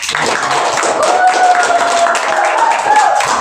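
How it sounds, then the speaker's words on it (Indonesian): A primary school class claps steadily throughout, dense and close, with a voice faintly present beneath the clapping. "Berikan tepuk tangan."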